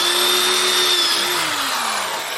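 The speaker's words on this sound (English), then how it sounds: "this hardened steel drill bit is a little bit better than any of the ones I've ever used from Harbor Freight" A hardened steel drill bit boring into a sheared bolt on a 460 Ford engine, with a loud continuous whining drill tone that slowly drops in pitch under load, close up with no talk.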